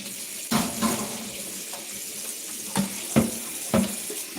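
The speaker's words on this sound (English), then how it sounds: "You want to wash it with hot water and" Tap water runs into a sink while raw chicken is rinsed under hot water, a steady close splashing stream broken by several louder sloshing bursts as the meat is moved and turned.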